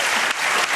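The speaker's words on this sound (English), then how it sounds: "Come on, round of applause." Studio audience applause on a TV comedy clip show: a brief, loud burst of dense clapping that fills the whole moment with no voices over it.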